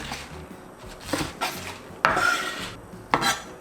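A knife cuts green onion into short 3–4 cm pieces on a board, giving several close, distinct chopping strikes with scraping rubs between them, spaced irregularly about a second apart in a quiet kitchen.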